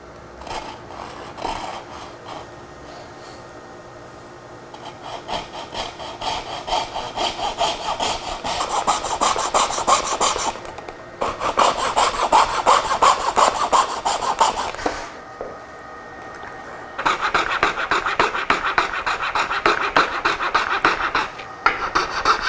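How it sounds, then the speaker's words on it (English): A hand saw cuts wood trim using a miter as a guide. Steady, loud rasping back-and-forth strokes continue throughout, with brief pauses near the middle, and no talk. "I can use this miter right here as a guide to cut this"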